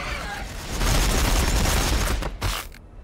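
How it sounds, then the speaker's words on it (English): Ork gunfire in a Warhammer 40,000 video game, a dense, loud volley of overlapping shots roaring almost continuously for a few seconds before cutting off. "Let's go ahead and shoot a crap ton then with the bonus."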